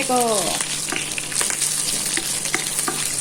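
Garlic sizzles and fries in hot oil, a loud, dense crackle that continues steadily throughout, with brief stirring scrapes over it.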